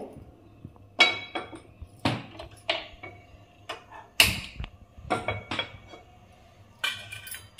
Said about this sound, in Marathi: आता आपण गॅसवर तेल गरम करायला ठेवूया।